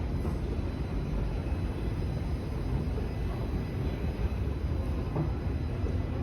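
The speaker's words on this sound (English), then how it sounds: "I can hear a train that's laying over." A subway train lays over at a Toronto station platform, producing a steady, loud low rumble and hum that fills the underground space without pause.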